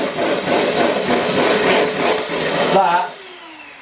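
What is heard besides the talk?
whisking cream for a cheesecake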